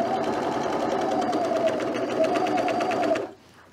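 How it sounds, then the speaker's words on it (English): An overlocker serges a fleece collar onto a pullover neckline in a steady, fast mechanical whir that runs evenly for about three seconds, then stops abruptly, close up and alone. "we're gonna line up this raw edge to the raw edge of the neck, of the collar. And we're gonna overlock this on."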